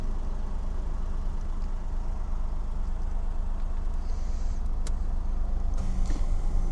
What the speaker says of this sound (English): You may well have heard the AC compressor just kicking in